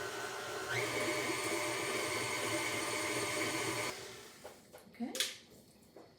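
A stand mixer at medium speed creams sugar and shortening for old-fashioned tea cakes. It whirs steadily for a few seconds, then cuts off, followed by a brief spoken word and a few light clinks.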